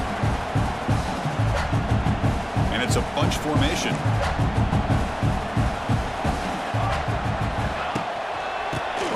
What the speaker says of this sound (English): you just know the home crowd is loving this